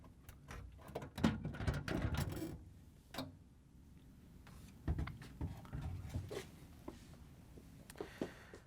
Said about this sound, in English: we can lift the assembly up a little bit and pull it out